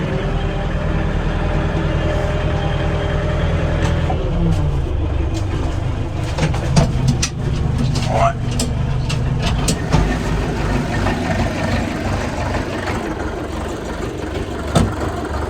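An ENEY TY404C 40-horsepower tractor with a KM engine idles nearby with a steady low rumble, while clunks and rattles from handling the machine break in over the second half.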